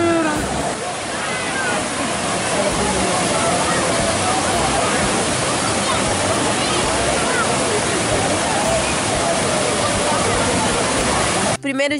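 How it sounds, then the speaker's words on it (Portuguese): A waterfall in Minas Gerais roars nearby as a loud, steady rush of churning water, broad and unbroken, with a voice faintly present beneath it. "No vídeo de hoje a gente vai mostrar uma cachoeira"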